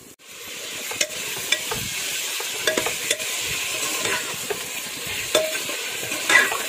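Cauliflower and potatoes fry in a pan, a continuous close sizzle punctuated by repeated scraping clacks as a utensil stirs them.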